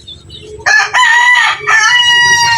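Among farmyard chickens with chicks, a bird lets out a loud, drawn-out crow right up close after a quiet start, its call wavering over about two seconds.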